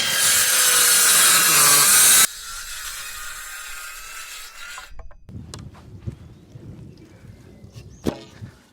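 Wood pieces for a log store are sawn to length, starting with a loud, steady power-tool cut that drops off, followed by quieter rubbing, knocks and handling sounds close by.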